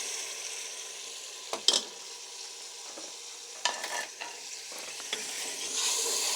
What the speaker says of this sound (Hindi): टमाटरों का पेस्ट ऐड कर दिया अभी। तो अच्छे से यहाँ पे मिक्स करेंगे।